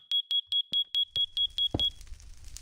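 A fire alarm in a Minecraft furniture mod sounds a rapid series of about ten shrill electronic beeps, loud and evenly spaced, ending with a soft in-game thud.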